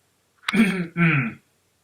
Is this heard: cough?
yes